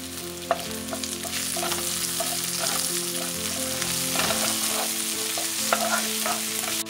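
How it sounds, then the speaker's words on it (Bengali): Whole garam masala spices frying in hot oil in a pan, a loud continuous sizzle with occasional stirring scrapes and light clatters, close and steady without speech. "এর মধ্যে গরম মশলা, গোটা গরম মশলাগুলো দিয়ে দেবো।"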